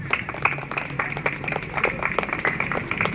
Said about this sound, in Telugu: క్లాప్స్ అండి.